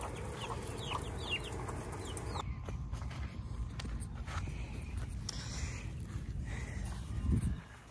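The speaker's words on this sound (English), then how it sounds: "Chickens, little chicklets." Chickens and chicks cluck in scattered short calls over a steady low rumble, with a few footsteps and rustling nearby.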